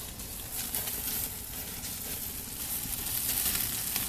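Bacon sizzles and crackles in a hot pan of grease, a steady dense frying hiss that holds throughout and builds slightly louder toward the end, close and without talk.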